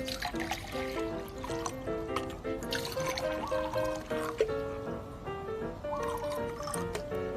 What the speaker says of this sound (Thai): เราจะเติมด้วยน้ำเปล่าอีกครั้งหนึ่งนะคะ